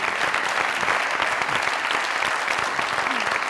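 A studio audience at a live comedy show claps loudly and steadily, a dense sustained wall of applause with no break.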